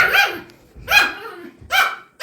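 A dog barks three times in loud, close, evenly spaced bursts, with brief silence between each bark.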